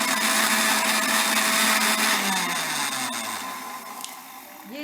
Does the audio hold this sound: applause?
no